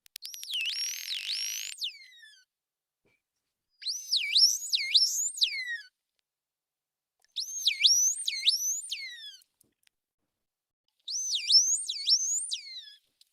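A bottlenose dolphin's signature whistle repeats in four separate bursts, each a string of high, rapidly rising and falling looping sweeps, clear and isolated against silence.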